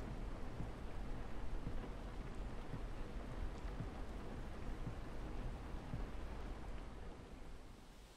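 Steady rain falling as a continuous faint hiss, with soft low rumbles and no voices.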